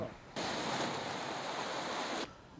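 High tide waves and strong wind batter the coast at the port of Piégut in Brittany, where moored boats are being tossed, a loud steady roar of surf and gusts lasting about two seconds before cutting off.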